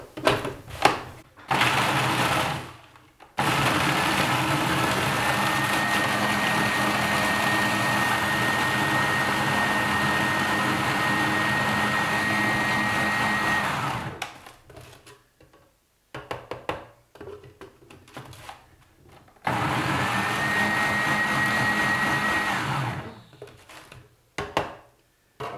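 A food processor grinds speculoos biscuits into a fine powder. The motor roars in two long, loud runs, and short pulses and clattering come before, between and after them.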